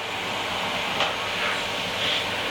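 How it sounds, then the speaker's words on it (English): A steady broadband whooshing drone runs throughout, like a vacuum cleaner running nearby, with a few faint higher whistles rising and fading over it. "He's still bloody hoovering."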